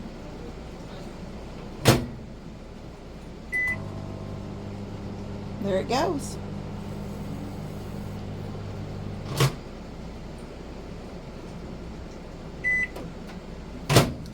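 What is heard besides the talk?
1000-watt microwave oven running on AFERIY P210 power station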